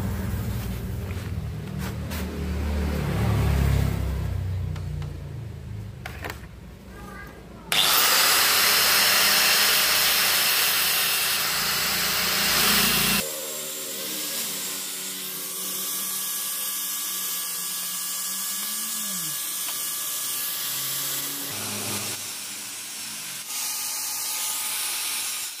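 A power grinder smooths the built-up weld on a worn front gear shaft, starting with a loud, steady, hissing grind that later settles into a lighter, whining buzz with a few short changes in pitch. No one speaks.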